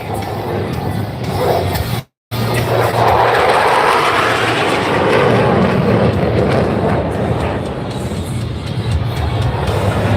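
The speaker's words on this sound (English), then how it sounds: "Gonna get another high-speed pass." An aircraft makes a high-speed pass at the Fort Lauderdale Air Show, a loud, sustained roaring jet rush that swells and fills the air, with a brief dropout near the start.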